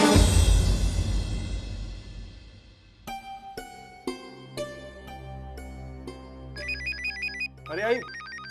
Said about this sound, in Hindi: अरे आई, फोन देखना किसका फोन है?